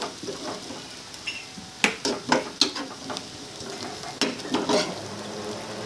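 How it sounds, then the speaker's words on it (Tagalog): Garlic and ginger frying in hot oil until golden, a crackling sizzle broken by a run of quick metal spatula scrapes and clinks against the pan, close up with no voices. "Mag-golden brown yung bawang at aluya."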